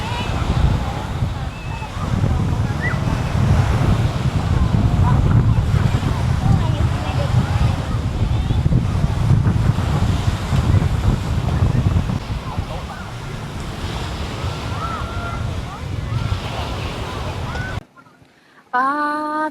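Sea waves and wind at Bang Saen beach make a constant loud rushing roar with microphone buffeting, while someone talks over it and a brief quiet gap comes near the end.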